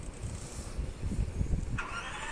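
A motorbike engine starting up in a realistic driving video game, a low rumbling idle followed by a rising higher-pitched whine toward the end, steady and close with no talking.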